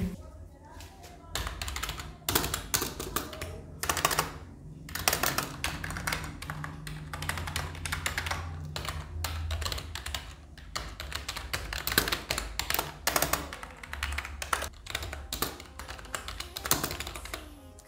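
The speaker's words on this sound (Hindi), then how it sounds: "आप कर लेते हैं इस कीबोर्ड के साउंड टेस्ट" A Chiptronex Kranos RGB backlit gaming keyboard clatters under fast, continuous typing, with dense clicky keystrokes in rapid bursts and short pauses, close and clear, with a voice speaking underneath at times.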